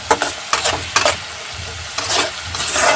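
Spice paste frying in oil with a tomato-based masala, loud close sizzling punctuated by bursts of stirring strokes, brief and uneven, no talk.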